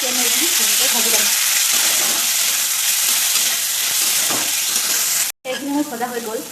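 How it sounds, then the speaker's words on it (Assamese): Masala sizzles and gets stirred in a hot pan for masala macaroni, a loud, continuous frying hiss with scraping stirs, a brief dropout near the end, then renewed sizzling. "এতিয়া মই এইখিনি ভালকৈ ভাজি ল'ম।"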